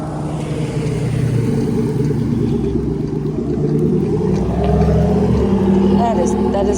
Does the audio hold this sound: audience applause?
no